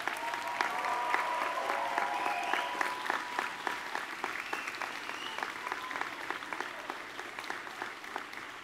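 Graduates applauding at a Denison University Class of 2020 commencement ceremony, a sustained crowd clapping that stays steady through the whole stretch, with faint voices underneath.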